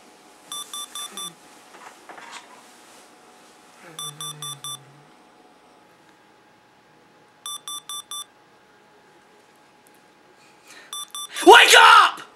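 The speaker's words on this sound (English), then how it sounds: "your alarm's been buzzing all day" Repeated electronic alarm clock beeping in short clustered bursts, sounding several times across the scene, with voices and other sounds in between and a loud burst of noise at the end.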